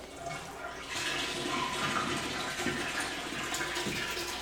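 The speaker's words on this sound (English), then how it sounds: "So you hear the water draining, but it came quickly to a stop." Water rushes and gurgles as it drains from a column through an opened hand valve, a steady hissing flow with bubbling, fairly close and continuous throughout.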